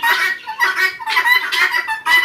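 A few close, loud clucks from a hen come in short bursts with brief pauses between them.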